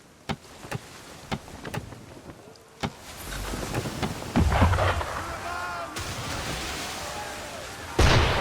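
An enemy ship's cannons fire in Assassin's Creed 3 out on the open sea. Sharp distant reports come first, then heavier booms under wind and water noise, with voices talking at times.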